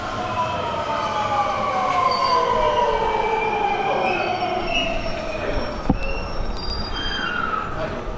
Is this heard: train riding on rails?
yes